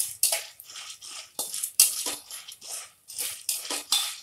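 Maize kernels sizzling and rattling in a pressure cooker as they roast with turmeric, salt and chilli spices, a close run of repeated scraping, stirring clatters and crackling bursts of metal on metal.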